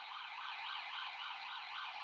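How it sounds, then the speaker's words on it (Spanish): An ambulance siren sounds outside, a steady wavering wail rising and falling in pitch, moderately loud and continuous with no talking over it. "En que pase la ambulancia."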